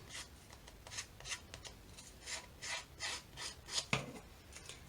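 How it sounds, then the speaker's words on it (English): Scissors scrape along cereal box cardboard to rough up its surface, a quiet series of close, rhythmic raspy strokes with no talking. "So I'm just running the scissors along here just to rough it up a bit"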